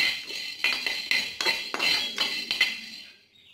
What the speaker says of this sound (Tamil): இப்போ மிளகு வறுக்கிறோம்.